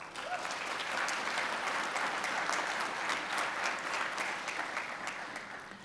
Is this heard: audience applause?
yes